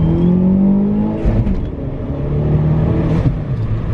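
A Citroën DS3 1.6 THP with a stage 1 tune accelerates on the road, engine tone climbing steadily, dipping briefly at a gear change, then pulling again with a loud, rising drone from inside the car.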